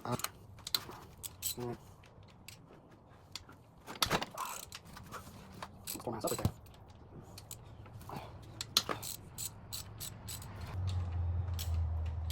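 Socket ratchet clicking in short irregular bursts while working on the transmission bolts of a BMW E36 during engine teardown, with metallic clanks of tools and parts, and a low hum building toward the end.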